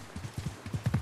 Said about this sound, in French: vous me voyez pas arriver avec mon gros dromadaire?